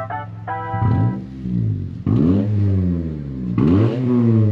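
An engine revs up sharply several times in a row, each rev rising in pitch then dropping back, loud and close.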